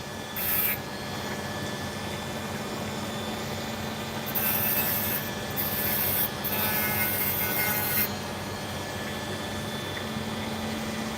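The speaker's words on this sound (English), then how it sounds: "Already slowed down the dremel as far as it'll go." A slowed-down Dremel rotary tool grinds an opal in a steady, faint, continuous whir, with a few louder scraping bursts near the start and through the middle. No one speaks.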